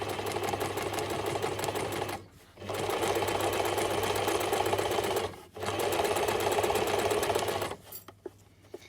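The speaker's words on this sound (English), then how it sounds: "So let's just sew a little forward and back tack again." A sewing machine stitches a French seam with back tacking, running in three fast, rattling bursts separated by short pauses. The last stop is followed by a few light clicks.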